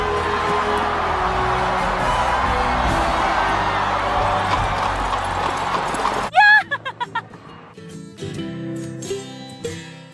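Racehorses at a racing stable in Jordan shuffle and clop on the ground among murmuring voices. Midway, one horse lets out a loud, close neigh, followed by scattered hoof knocks and snorts.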